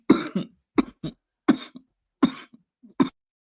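A person coughs repeatedly up close, six or so harsh, raspy bursts in quick succession with brief gaps between them.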